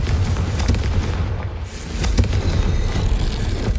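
A Confringo blasting curse goes off in Hogwarts Legacy, a loud, booming burst with a heavy low rumble that briefly dips before rolling on as sustained, dense noise.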